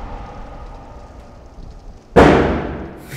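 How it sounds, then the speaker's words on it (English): Fireworks go off outside with a sudden loud booming burst that decays slowly, following a steady stretch of background game sound. "it's fireworks. At first I was like, what the hell's going on outside?"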